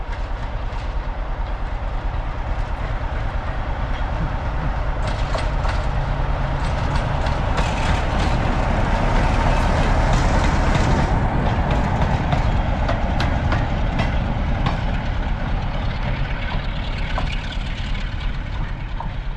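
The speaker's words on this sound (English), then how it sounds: "There's a goods train." Goods train with no carriages rolling past on a railway line, heard from a wild camping spot by bike, a steady rumble with clicking wheel clatter building and fading over several seconds, moderately distant, with no voices.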